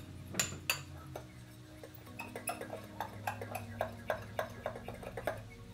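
A spoon stirring sugar and cinnamon in a small bowl, tapping out a steady run of light, quick clinks and scrapes against the dish over a low background hum.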